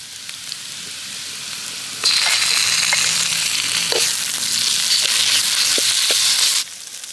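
Ginger garlic paste fries in a pan over a village-style cooking fire, a loud steady sizzle that starts suddenly, holds for several seconds with faint stirring scrapes, then cuts back to quiet.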